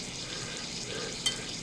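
Lithium metal reacting in water in a chemistry demonstration: a faint, steady fizzing and crackling hiss like light sizzling, continuous and soft, with one small tick near the end.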